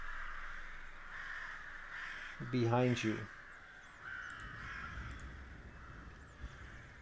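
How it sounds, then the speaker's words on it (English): Crows caw outside a town, with a loud burst of harsh calls near the middle and fainter ones scattered around it, while a voice speaks briefly over the scene. "as the crows make a cacophony of sound"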